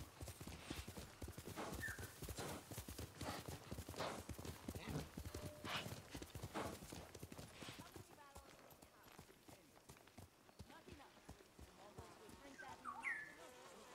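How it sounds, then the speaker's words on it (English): Horse hooves clip-clopping at a steady gallop in the Ghost of Tsushima video game, continuous and fairly loud, with soft insect-like buzzing and a brief whinny near the end; a person talks over it. "I can't just launch my horse onto the ground."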